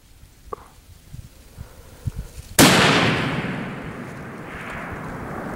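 A single loud, close .338 Lapua Magnum rifle shot fired at a 1,000-yard target cracks sharply, then a long decaying boom rolls away outdoors, with faint quiet handling noises before it and no talk.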